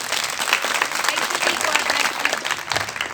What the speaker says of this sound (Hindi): मैं चाहता हूं इन सब के लिए एक दफा तालियां बजाई जाए।